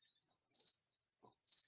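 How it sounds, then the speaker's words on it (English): Crickets chirp in two short, high, thin bursts separated by a pause, fairly faint against otherwise near-silent surroundings, with no talking. "I apologize for the crickets."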